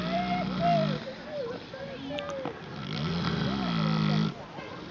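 A napping pig snores at an inn with a few rough, grunting breaths close by, while a person speaks softly over it.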